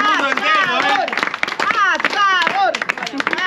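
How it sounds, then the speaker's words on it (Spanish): A crowd at an Argentine barbecue claps for the grill master, quick close hand claps mixed with loud cheering voices and chatter throughout. "Un aplauso para el asador."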